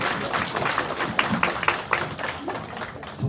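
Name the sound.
applause for high school seniors who took the college entrance exam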